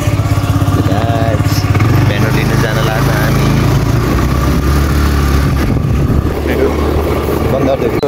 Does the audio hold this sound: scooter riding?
yes